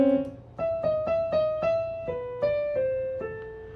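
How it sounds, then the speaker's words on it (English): Sustained notes with rich harmonics, in minor intervals that sound sad and somewhat dissonant, change roughly every half second as a short, steady sequence of pitched tones played alone, with no talking. "All kinds of minor intervals in there."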